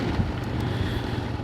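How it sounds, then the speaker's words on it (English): Wind blows outdoors in a steady, rumbling roar that buffets the microphone, with no voices. "It's windy."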